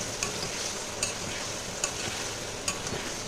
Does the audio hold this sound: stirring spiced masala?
yes